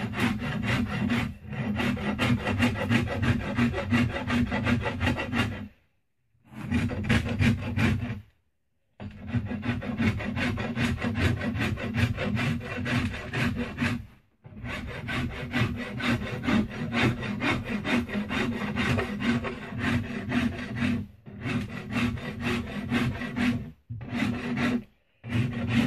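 A knife scraping down the belly of a yew bowstave, long rasping strokes repeated steadily with short pauses between runs, close and fairly loud.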